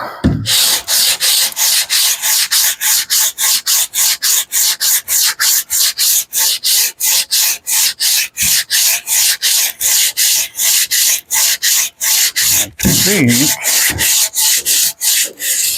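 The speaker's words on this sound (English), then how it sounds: "I think I'm using 80 grit on here right now." Rapid, steady back-and-forth scraping of 80 grit sandpaper over a drywall skim coat, loud and close with a brisk even rhythm and a brief pause near the end, no talk.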